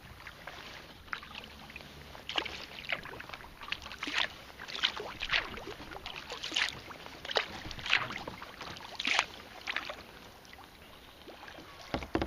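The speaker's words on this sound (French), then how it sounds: "T'as envie de pagayer, mais vraiment lentement, pas faire de bruit" A sea kayak paddled slowly on a lake, with soft, irregular paddle splashes and drips every second or so over quiet wind, faint and close by.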